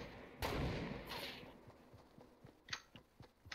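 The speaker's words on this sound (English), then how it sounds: "He's shooting at me." Gunfire in the battle-royale game Fortnite during a 3v3 fight: one loud close blast is followed by a burst, then a run of quieter, quick distant shots.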